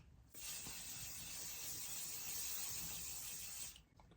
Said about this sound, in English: I give my eyes another assault of hairspray